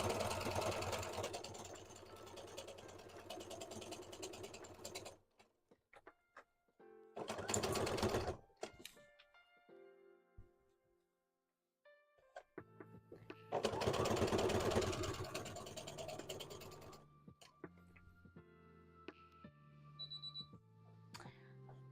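Home sewing machine run at its top speed, a fast steady whirring hum in several bursts separated by quiet gaps, close by, with faint clicks and a voice speaking in between.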